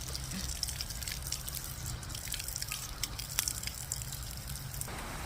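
A small waterfall at a hot spring in Pugo, La Union, giving a steady, dense splash and patter of falling water heard close, with scattered drips and faint background voices.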